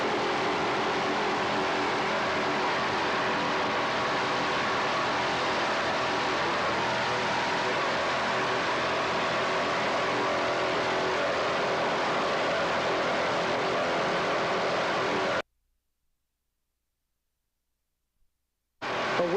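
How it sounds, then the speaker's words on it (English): Offshore racing boats from a 1986 regatta with Ross motors roar continuously at high power, a loud, dense broadband engine drone lasting about fifteen seconds before cutting to silence, then briefly returning at the end. "There you really get an idea of the noise and the power behind these Ross motors."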